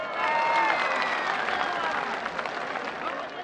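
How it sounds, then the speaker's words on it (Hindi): A large crowd claps and cheers at an outdoor political rally for Imran Khan in Mianwali, a dense wash of applause at moderate distance, with a voice faintly heard over the crowd. "भरपूर तालियां इनके लिए"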